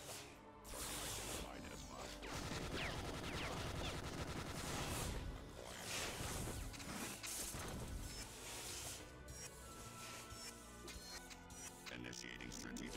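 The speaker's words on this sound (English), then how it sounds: "Now to deal with the gun turrets." Gun turrets in the Spider-Man PS2 video game fire in dense, sustained volleys with crashing impacts, a loud busy barrage that continues throughout with game voices mixed in.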